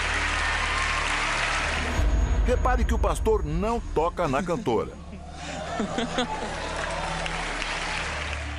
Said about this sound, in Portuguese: O público aplaude.